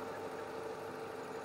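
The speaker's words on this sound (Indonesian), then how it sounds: "Ini masih kondisi idle ya, masih nyala idle." Engine of a 2014 Chevrolet Aveo Sonic idling in a workshop, a steady close humming drone with faint rhythmic ticking, no voices.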